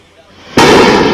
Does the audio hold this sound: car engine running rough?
no